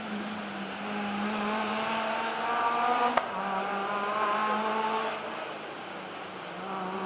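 Another Mull Rally car from 2019 races through the stage at speed, its engine note rising and shifting with a sharp click partway, moderately loud and sustained before fading slightly.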